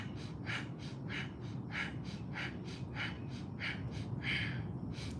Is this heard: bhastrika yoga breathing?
yes